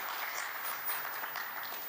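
Audience applause at a women's fitness and finance event, a steady wash of many hands clapping from a crowd, even and sustained throughout.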